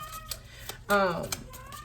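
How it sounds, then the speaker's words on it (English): A mother cat hollers with a loud drawn-out meow, wanting to join her kittens in a closet, preceded by soft scattered clicks in an indoor room. "She is hollering because she wants me to let her go in the closet with her kittens"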